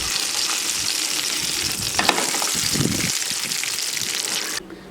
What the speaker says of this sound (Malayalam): അപ്പോൾ നമുക്ക് ചിക്കൻ രണ്ട് വശവും ഇതേപോലെ ഒന്ന് ഫ്രൈ ചെയ്തെടുക്കാം കേട്ടോ